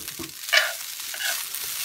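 A cup and a half of raw rice browns in a hot pan, giving a soft, close sizzle with a brief scrape of stirring partway through.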